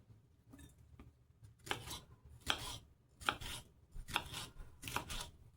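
A knife chops vegetables thinly for a Greek salad, five or six quick bursts of blade strikes against a cutting board in an even rhythm, close and fairly quiet, with no talk.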